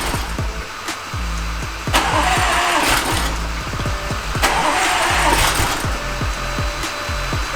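An Audi S7 engine cranks repeatedly, the starter churning in rhythmic pulses with brief catching surges, struggling to fire and not settling into a steady idle.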